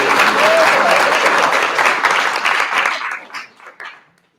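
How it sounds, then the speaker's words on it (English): A live audience at an Old Time Cochrane event breaks into strong, steady applause welcoming a panel, thinning out into a few scattered claps before stopping. "I would like to ask you to welcome our illustrious panel with a round of applause"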